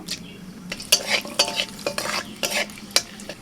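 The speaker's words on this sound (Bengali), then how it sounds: "ফোড়নে দিচ্ছি এলাচ দারচিনি লবঙ্গ" Whole cardamom, cinnamon and cloves hit hot oil as tempering for egg dopeyaja, giving a soft frying hiss under a series of sharp spatula scrapes and stirs, close and moderately quiet, no voices.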